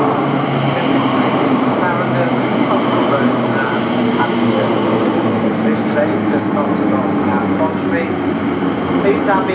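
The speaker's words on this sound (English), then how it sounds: "The train now approaching platform B is your westbound services towards Clay Wall," A westbound train draws into the platform at Custom House station with a steady, loud, broad rumble and hiss, while a voice speaks over the noise throughout.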